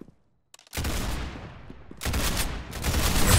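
Rapid bursts of automatic gunfire from Roblox Arsenal gameplay, two dense loud volleys separated by a brief lull, with no talking.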